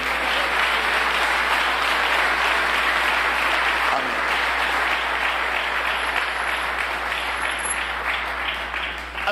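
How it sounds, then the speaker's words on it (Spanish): Congregation at a church service claps steadily for Jesus, a dense, moderately loud wash of many hands that holds evenly throughout with no speech. "Dale un aplauso a Jesús"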